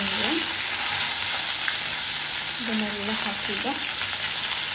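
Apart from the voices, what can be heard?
green chillies, mint and coriander frying in oil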